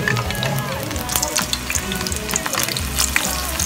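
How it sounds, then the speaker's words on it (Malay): Onions fry in plenty of very hot oil before eggs go in, giving a loud, continuous close sizzle with crackling pops and a stirring scrape. "Goreng bawang dulu sampai layu"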